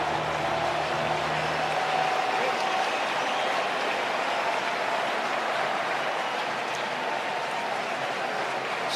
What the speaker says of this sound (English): Listen to this crowd right now.